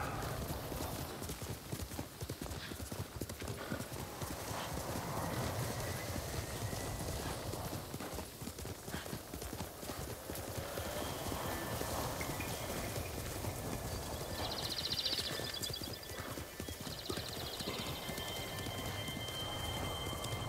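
Horse hooves clip-clop steadily in the Ghost of Tsushima video game, a continuous galloping rhythm close by, with a faint rain-like patter in the background.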